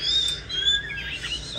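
A long-tailed oriental magpie-robin kept as a pet bird sings a short run of thin, high whistled notes and chirps up close, with no voices.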